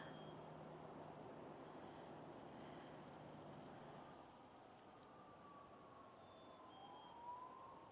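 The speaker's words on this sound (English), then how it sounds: "I listened to the distant sirens." Faint far-off sirens during a winter hike in a snowy river valley in Edmonton, Alberta, a thin wavering wail rising and falling over a quiet hiss of outdoor ambience, with no talking.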